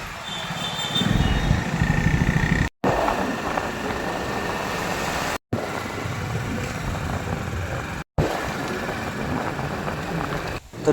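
A new car pulling away and driving off on a town street, its engine a steady broadband rumble with low drone throughout, briefly cut by a few short gaps.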